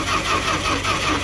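A 1970s Dodge street van's engine cranks on a recharged battery, a continuous mid-pitched churning of the starter turning the motor over with a slight pulsing rhythm, loud and close.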